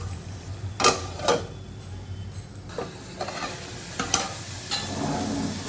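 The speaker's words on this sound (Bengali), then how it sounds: "আর একটু কষানো হোক, তারপরে দিব।" Spice paste frying in a pan for kochu shak, with steady close sizzle and several loud scraping strokes of a spatula spread through it; no talking.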